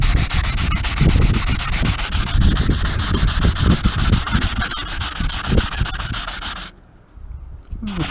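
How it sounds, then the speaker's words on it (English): A sanding block scrubs a truck bumper in fast, steady, rasping back-and-forth strokes, loud and close, easing off briefly near the end. "I just took a sanding block to it"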